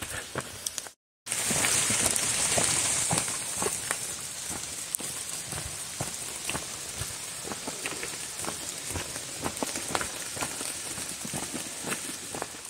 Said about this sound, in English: walking in a rain of this magnitude